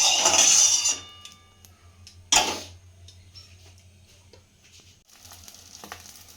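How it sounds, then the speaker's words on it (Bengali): Beaten egg hits hot oil with a loud burst of sizzling that quickly fades, followed by a second sharp sizzle and then faint crackling frying, with a low steady hum beneath. "ডিম বসাচ্ছি ভাজা, ভাজা করে তারপর ঝাল করবো। এই যে তেল দিয়েছি, ডিমটা ফেটিয়ে নিয়েছি"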